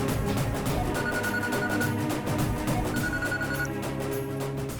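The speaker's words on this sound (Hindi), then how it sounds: "दीदी, जीजू का फोन है।" A telephone rings in repeated electronic bursts over background music, fairly loud and close.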